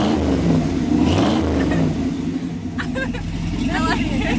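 A 1966 Chevy truck engine revs up with a rising rumble and vroom, close and loud, while people talk over it.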